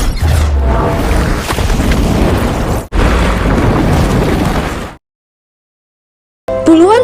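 A loud, sustained roaring blast from a volcanic mountain eruption with heavy low rumble, briefly cut off and resumed, then dropping to silence before a short musical sting.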